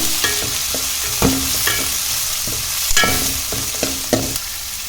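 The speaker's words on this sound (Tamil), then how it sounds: "சின்ன வெங்காயத்தை நம்ம போட்டுக்கணும் போட்டு நல்லா வதக்கிக்கோங்க" Small onions sauté in a pan for a fish curry, giving a continuous close sizzle broken by repeated scraping clacks of a spoon stirring at irregular intervals, with no voices.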